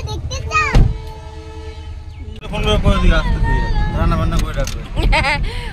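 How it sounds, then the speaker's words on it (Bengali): A train passes at a halt in Rajabad, its horn sounding in sustained tones before a broad rolling rumble of cars takes over, loud and close, with people chattering in the background. "ট্রেন যাচ্ছে"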